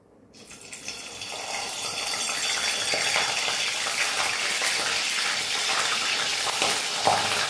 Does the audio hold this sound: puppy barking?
no